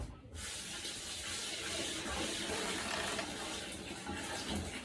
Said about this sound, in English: so pour some water in there.